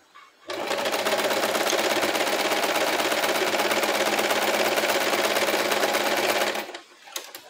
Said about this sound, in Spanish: Y acá estoy trabajando con una puntada recta, con una aguja común